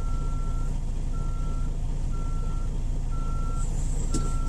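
Kenworth flatbed truck with double stacks reversing straight back, its backup alarm giving evenly spaced beeps over a steady loud diesel idle and engine rumble, with a brief hiss near the end.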